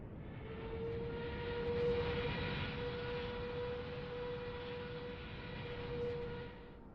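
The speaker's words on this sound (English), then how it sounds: "Somebody taking off from the other way." An airplane takes off in Microsoft Flight Simulator 2020 with a steady engine drone and a sustained tonal whine, fairly faint and unbroken by talk.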